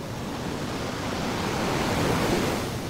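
Strong sea waves churned up by Typhoon Julian roar continuously, a dense broadband wash of surf and wind that swells slightly toward the middle, with no voices.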